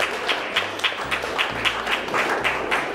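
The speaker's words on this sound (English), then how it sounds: "I want to first give everyone in attendance a round of applause just for the support" An audience at a celebratory brunch applauds steadily, many hands clapping at once in a moderately loud, continuous patter heard from within the room.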